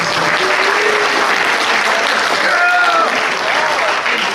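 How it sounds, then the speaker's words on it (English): A crowd of students claps steadily and loudly for several seconds at a school district event, a dense wash of applause with a few faint whistles or cheers mixed in. "give a round of applause to the staff"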